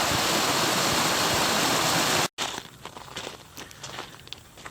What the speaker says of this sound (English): But that'll sit right there and start draining the pond down.